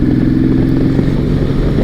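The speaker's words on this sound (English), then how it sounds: "the Honda Valkyrie revs really fast" Honda VTX1800R Valkyrie motorcycle engine running loud and close, a steady dense roar held at high revs without pause.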